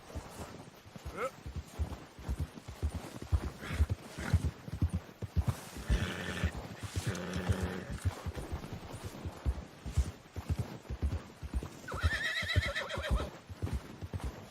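A horse in Red Dead Redemption II, carrying a dead deer, gallops with a rapid, steady clip-clop of hooves and gives two loud whinnying neighs, one midway and one near the end, close and clear.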